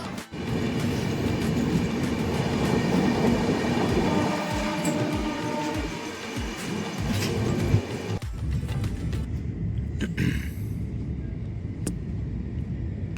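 A train rumbles steadily along the tracks in India, passing through Bhadrak station without stopping, with clattering wheels and a loud, continuous roar, easing into a lighter rattle near the end.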